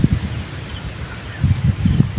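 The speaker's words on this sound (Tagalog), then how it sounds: "Ayan na naman malakas na hangin." Gusty wind buffets the microphone in low rumbling bursts, loud and close, with a rustling hiss behind it.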